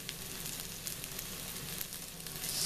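Pork chops sizzling in an oiled pan, a faint steady hiss with scattered crackling pops, close and alone.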